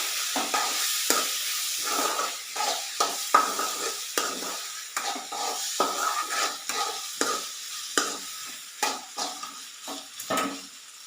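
Turmeric powder frying in a pan is stirred with a spoon, producing repeated rhythmic scraping strokes over a soft sizzle, close and fairly loud, with no talking.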